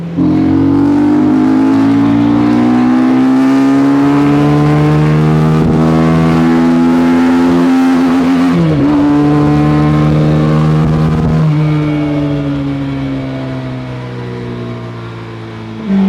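A Bristol Mostro 250 motorcycle engine revs loud and close while riding, its steady tone rising and easing through long gears with a brief dip near the middle, fading slightly toward the end.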